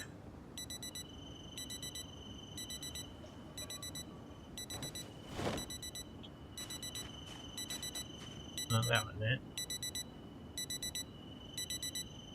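A black digital watch alarm in Project Zomboid gives repeated bursts of rapid high electronic beeps in a steady pattern, while a nearby voice speaks briefly over it.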